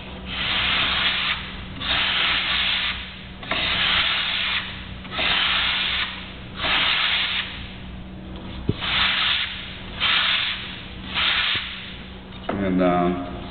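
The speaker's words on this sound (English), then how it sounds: "just take your sanding block" Steady, rhythmic rasping strokes of a sanding block rubbing back and forth over wood, about nine passes, close by.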